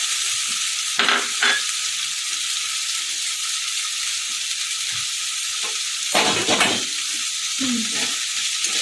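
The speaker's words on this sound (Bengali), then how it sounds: "এবার এই নিয়ে একটুখানি নেড়ে চেড়ে নেবো" A spoon stirs pasta with fried peanuts through red sauce in a pan, giving a steady sizzling hiss broken by a few brief scraping stirs.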